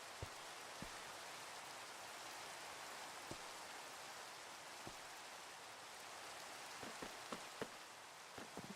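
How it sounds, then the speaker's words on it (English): Steady rain falls in Minecraft, a soft continuous hiss of drops with occasional faint thuds over the top, uninterrupted throughout. "Get rid of this rain."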